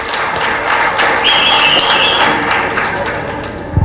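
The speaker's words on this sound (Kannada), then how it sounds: "ಸೊ ಅವರಿಗೊಂದು ಜೋರಾಗಿ ಚಪ್ಪಾಳೆ ಕೊಡಿ" An audience at a village dance academy's annual function applauds the dance choreographers: a dense, steady wash of clapping from a crowd at fairly close range, with a sustained tone ringing over it.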